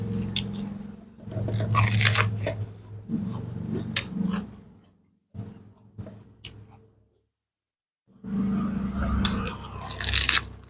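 Someone chews a mixed Thai salad with enoki mushrooms and fresh vegetables, producing loud, close, wet crunching bites in bursts separated by a brief quiet pause.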